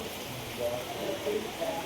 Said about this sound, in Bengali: বৃষ্টিটা আরো জোরে নামছে।